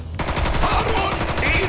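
Rapid, continuous machine gun fire in South Park: The Stick of Truth rattles loudly and close, a dense unbroken burst of shots.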